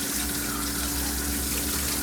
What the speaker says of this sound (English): I'm rinsing off the shampoo bottle while I wait.